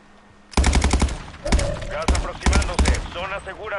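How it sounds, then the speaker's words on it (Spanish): Automatic gunfire in the Warzone battle royale game, several sharp bursts of rapid shots close by, breaking off and resuming over a few seconds with a voice talking between them. "¿Están disparando?"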